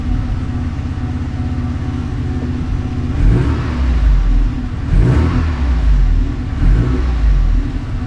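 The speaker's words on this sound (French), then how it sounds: "Le moteur est toujours en train de chauffer." Engine of a 1990 Alfa Romeo Spider warming up in a garage, a steady close idle rising into several short revs around the middle and end.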